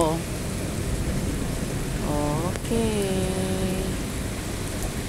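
Heavy rain pours steadily as a dense hiss across the whole clip, while a person talks briefly over it.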